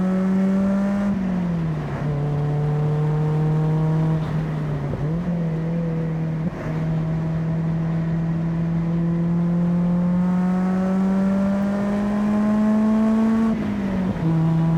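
Mazda NC Miata engine on a small race track, a loud steady in-car drone with clear tone rising and dipping through shifts and throttle changes, with brief gear-change breaks.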